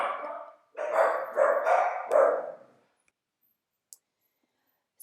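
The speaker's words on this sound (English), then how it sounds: "apologize for my dogs" Dogs barking indoors in a few loud, close bursts over roughly two seconds, then falling quiet apart from a faint click.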